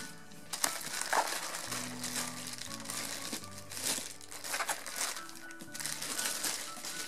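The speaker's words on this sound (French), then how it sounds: "C'est bien, il y a plein de papier bubule pour mes chats" Bubble wrap and packing crinkle and rustle close by during the unboxing of a ball-jointed doll. Soft, steady crackling runs throughout, with a quiet tonal sound in the background.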